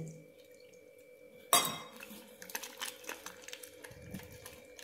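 Dhokla batter being whisked in a bowl to break up lumps, starting with a sharp clatter followed by a run of quick, uneven scraping and tapping strokes, close and moderately loud with no talking.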